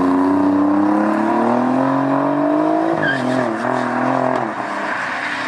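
Alfa Romeo Giulia Quadrifoglio engine hums steadily while driving, its tone rising gradually then dipping as it shifts, with continuous road noise underneath, loud and close from inside the car.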